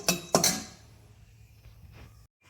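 Roasted cashews being moved onto a plate from a pan: two sharp metallic clinks of a utensil against cookware at the start, then fainter scraping and a soft tap before falling quiet.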